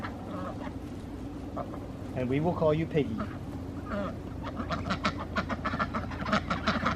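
Several ducks quack in short, hoarse bursts around a backyard duck pool, close and fairly loud, mixed in with a person talking nearby.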